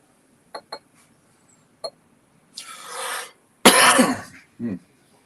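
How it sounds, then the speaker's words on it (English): A person coughing with a lingering cough, a couple of sharp hacks after faint clicks, then a harsh rasping fit and one last short cough, close and loud. "Still not over this cough yet."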